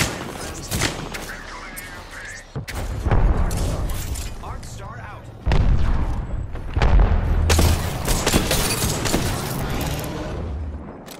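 Gunfire from the Apex Legends battle royale game rattles in dense, loud bursts and booms, rapid shots and impacts layered over one another with in-game voice lines and talk mixed in.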